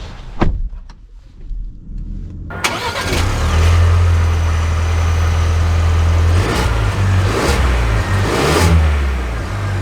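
A 2023 Ford Ranger Tremor pickup starts up and pulls away, the engine catching after a few clicks, then settling into a loud, steady rumble with rising revs as it drives off close by.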